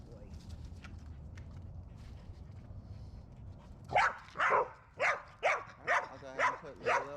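A dog named Lilo, a female, barks in a run of six or seven loud close barks after quieter whimpers and shuffling, with a person speaking nearby.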